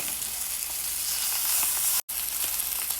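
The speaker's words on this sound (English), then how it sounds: "After about another minute or two, I'm going to go ahead and sear the sides." New York steak searing in a hot pan, a loud, constant bright sizzle that fills the clip, broken by one brief near-silent gap before the frying hiss resumes.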